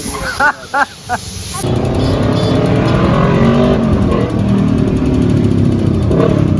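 A Kawasaki Vulcan S motorcycle fitted with a TBR exhaust roars into a loud, sustained rev close by, after a few short blips at the start, with voices briefly heard over it.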